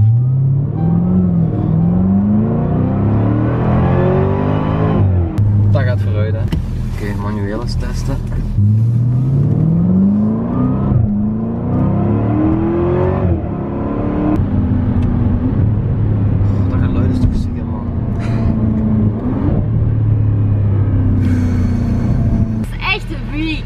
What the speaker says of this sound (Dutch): Dus we gaan nu eens op die gas duwen en kijken wat die auto echt kan.